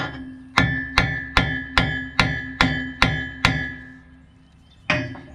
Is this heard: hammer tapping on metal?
yes